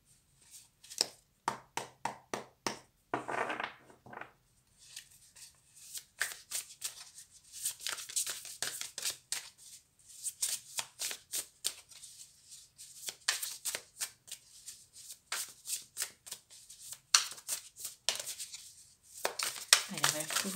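Light Seer Tarot cards shuffled by hand in quick, repeated riffling bursts with soft taps between, close and fairly loud, under brief moments of talk.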